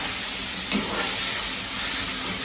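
Onions, salted, sauté in a pan as the start of a tomato chutney, giving a steady, close sizzle and hiss with a brief stir partway through and no talk.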